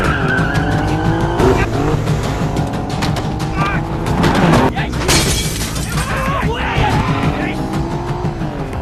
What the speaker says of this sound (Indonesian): Saat Eunha sedang melaju menghindari anak buahnya Wakjo, tiba-tiba saja mobilnya Wakjo sudah berada di hadapan Eunha